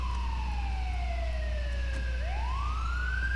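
An ambulance siren in the video game GTA IV, set on a snowy night, sweeps in a long falling wail, then begins rising again, loud and continuous over a steady low rumble.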